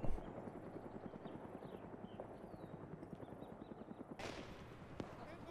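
Small arms gunfire in the video game Arma 3, a steady rapid rattle of shots running throughout at moderate distance, with a louder crack near the end.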